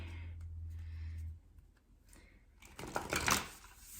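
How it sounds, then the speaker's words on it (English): Tarot cards are given one quick shuffle, a brief riffling flutter near the end after a low hum and near silence, heard faintly and alone. "one little shuffle here"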